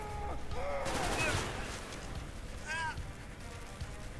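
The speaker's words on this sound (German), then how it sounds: "Ich schmeiß eine Granate. Granate geworfen." A grenade explosion in the video game Call of Duty: Black Ops, a loud burst about a second in, with gunfire crackling around it and brief game voices.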